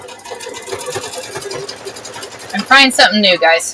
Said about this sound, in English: So I'm sewing a piece of fabric on there